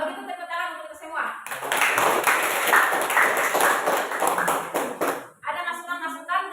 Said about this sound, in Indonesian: Kalau begitu tepuk tangan untuk kita semua.